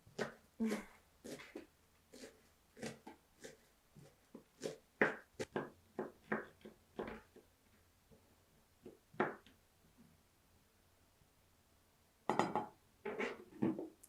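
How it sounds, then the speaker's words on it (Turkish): A knife chops fresh green onions on a cutting board, a long run of crisp, fairly quiet taps at an uneven pace with short pauses, ending in a faster cluster of chops. "Şimdi soğanlarımı küçük küçük doğramak istiyorum."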